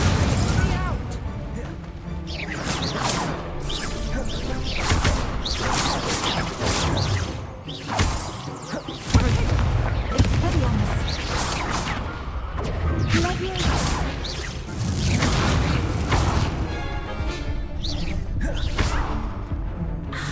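Spell-casting effects in the video game Hogwarts Legacy: repeated magical whooshes, bursts, pops and crashing impacts in quick succession, loud and busy, with voices shouting spell names over them.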